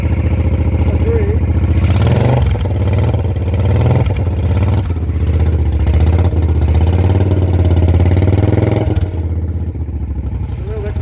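A Moto Guzzi Eldorado motorcycle fitted with a Brooklands silencer idles loudly on a cold start, its deep, steady thump wavering slightly as it warms up, with someone speaking over the running engine.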